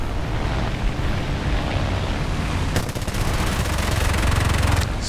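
Rapid machine-gun fire from aircraft in the War Thunder air combat game, a dense continuous rattle, loud and close, swelling near the end with no talk over it.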